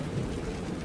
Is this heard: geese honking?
no